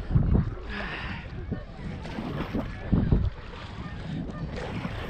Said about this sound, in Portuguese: O vento tá soprando pra lá e eu tô indo contra o vento, né?